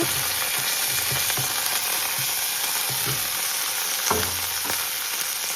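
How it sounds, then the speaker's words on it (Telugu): Green chillies and dried red chillies fry in hot oil for a tomato chutney, a steady close sizzle with soft stirring thumps and scrapes at irregular intervals and no voices. "పచ్చిమిరపకాయలు కూడా వేగుతూ ఉన్నప్పుడు ఈ ఎండుమిరపకాయలు వేసుకోండి"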